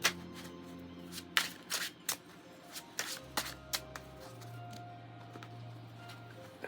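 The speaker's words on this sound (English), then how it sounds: "I'm gonna shuffle the cards though" Cards being shuffled up close: a series of crisp riffling bursts and soft taps, with quiet pauses in between.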